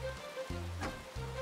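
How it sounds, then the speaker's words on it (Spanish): Cartoon rain falls outside a house in a steady, soft patter that continues under light background music. "¡Y está lloviendo afuera!"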